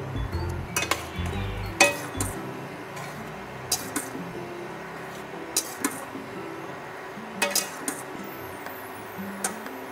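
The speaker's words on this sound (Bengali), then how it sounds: "সয়াবিনগুলো দিয়ে ভালো করে নাড়িয়ে নেব" Soybean chunks are stirred into curry in a pan, with a metal utensil clinking against the pan in scattered sharp taps over a low background hiss.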